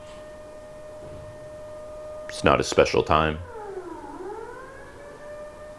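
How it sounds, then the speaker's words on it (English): A morning siren winds outside, a steady tone that rises and falls slowly, heard at a distance while someone speaks briefly nearby. "That's new. Siren."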